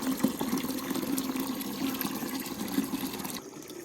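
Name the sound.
water filling a container in a village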